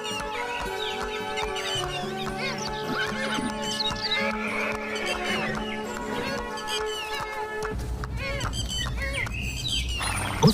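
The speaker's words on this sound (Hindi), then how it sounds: "राजा महल से घोड़े पर सवार होकर अकेले ही निकलता है" A horse being ridden neighs and whinnies loudly over the clip-clop of hooves, with birds chirping and a musical backdrop, ending with heavier hoofbeats and a final thump.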